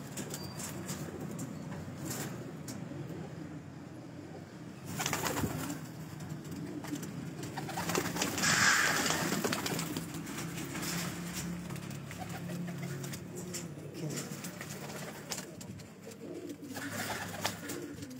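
Rooftop pigeons, including golden pigeons, coo softly in low, repeated murmurs, with a brighter bird call rising briefly in the middle over faint background noise.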